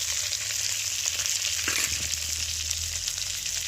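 Onions and curry leaves fry in a very hot pan, giving a steady, close, dense sizzle that holds at an even level throughout, with faint stirring scrapes mixed in.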